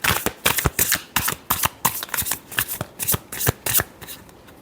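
Tarot cards being shuffled by hand in a quick series of riffling bursts with brief gaps between them, close and clear with no talking.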